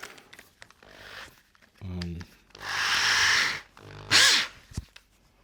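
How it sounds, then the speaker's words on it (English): A drill with an extension and Abranet sanding pad spins up and sands a natural edge wooden hollow form in two short, harsh bursts, the first longer, with brief muffled vocal sounds and handling noise around them. "put it in and start sanding"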